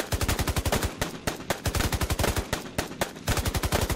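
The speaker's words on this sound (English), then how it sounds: "a hail of bullets rip through the space where your head just was" Rapid automatic gunfire in the video game Friendsim 2, loud, close bursts of sharp rhythmic shots that pause briefly between volleys, with no talking.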